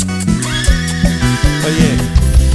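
Horse neighing, a loud rising whinny heard over a norteño song with a steady bass and accordion beat, with clip-clop-like rhythmic hits underneath.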